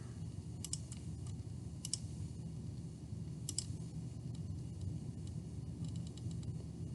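A computer mouse clicks several times to select multiple parts, sparse and faint clicks spaced a second or two apart over a steady low hum.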